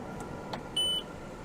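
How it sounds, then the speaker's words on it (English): A single short, high electronic beep from an Xtool S1 laser engraver as its head is aligned to a workpiece corner, clear against a quiet background. "You'll hear a beep."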